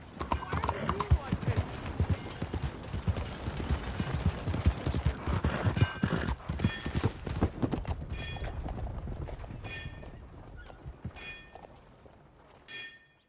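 Rhythmic clip-clop of horse hooves on a hard surface in the video game Red Dead Redemption 2, loud and close at first, then fading, with a voice speaking over the later part.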